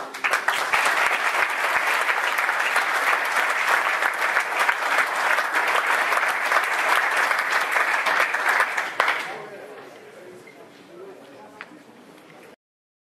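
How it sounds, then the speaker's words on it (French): A handball league's general assembly audience applauds Pascal, with loud, sustained clapping for about nine seconds before it abruptly thins out into a quiet room with scattered faint sounds. "je vous demande d'applaudir M. Pascal"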